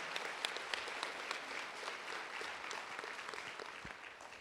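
Audience applauding at the closing ceremony of EH Con Canada 2022, a steady wash of many hands clapping at moderate volume throughout, with no talk over it.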